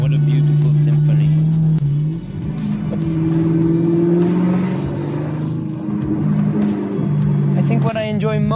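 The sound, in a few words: Maserati car engine revving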